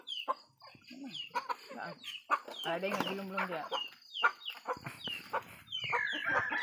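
Chickens cluck repeatedly up close in a village barangay yard, with short overlapping calls and a rooster-like note, while people talk nearby throughout.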